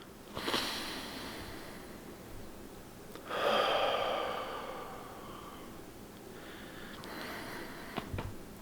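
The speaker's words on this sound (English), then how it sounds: "we're going to take a couple of nice lung-filling breaths" Deep, lung-filling breaths come one after another, each a long hissing inhale or exhale close to the microphone, three breathy swells with quiet pauses between and no talking.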